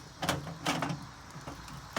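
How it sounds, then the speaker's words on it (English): A metal door on a wood-coal smoker used for smoking chicken swings and bangs shut, giving a couple of loud clanks and scrapes followed by a final thud, close by with no talk. "And then you just shut the door"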